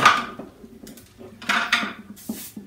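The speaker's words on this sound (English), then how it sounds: "The noise you hear are some additional parts for this guitar that are inside the guitar." Hard little spare guitar parts clatter and rattle inside a hollow acoustic guitar body in a few separate bursts, close and fairly loud, with brief quiet gaps between shakes.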